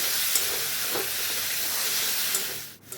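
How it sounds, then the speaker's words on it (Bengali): Chopped tomatoes fry in a pan for paneer masala, giving a loud, steady hissing sizzle with faint stirring bumps, heard close and without voices. "টমেটো দিয়ে সব কিছুকে এবার ভালো করে একটু ভেজে নিচ্ছি"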